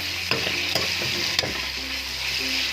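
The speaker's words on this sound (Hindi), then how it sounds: "तो अब हम इसको अच्छी तरीके से भूनेंगे टमाटर को भी।" Tomatoes frying and being stirred in a karahi pan for chicken Shinwari karahi, a continuous loud sizzle with a few sharp scraping strokes of the spoon near the start.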